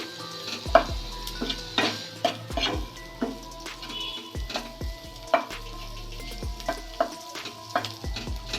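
Light frying of capsicum in a pan punctuated by sharp clinks and scrapes of a utensil on metal, several distinct knocks at irregular intervals, close and fairly quiet.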